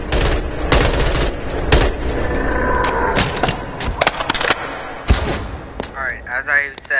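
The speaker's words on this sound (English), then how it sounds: "I think I'm hearing gunfire from here" Bursts of gunfire in a video game, sharp broadband cracks in quick clusters, with a person talking over part of it.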